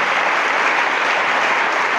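Steady, dense applause from an awards ceremony crowd fills the whole moment, loud and even without pauses.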